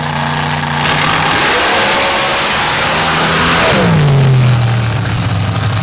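Open-class drag racers with Hemi and 526 Noonan engines, front-engine against rear-engine, roar loudly down the strip, a sustained blaring engine note sweeping and shifting pitch as the cars accelerate past.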